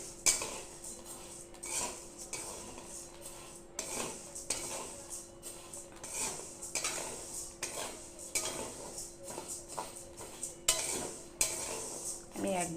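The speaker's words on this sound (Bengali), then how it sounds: "নেড়ে নেড়ে বেশি করে এটাকে একবারে ভেজে দেব" Rice dry-roasts in a pan while a utensil stirs it, producing repeated metallic scrapes and clinks against the pan in an irregular rhythm over a soft background crackle; no voices.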